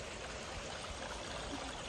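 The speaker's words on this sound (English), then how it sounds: "there's a really pretty stream that goes down here with a small waterfall" A pretty stream spilling over a small waterfall at Buddhist caves in Maharashtra, India, giving a steady, close rush and trickle of water with no voices.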